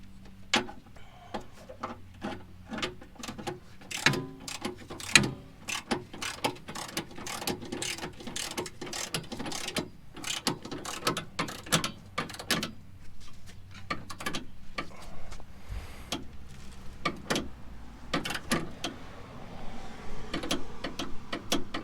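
A torque wrench ratchets rear strut bolts on a Honda Ridgeline, rapid clicking pawl bursts coming in irregular runs, close and fairly loud with short pauses between pulls.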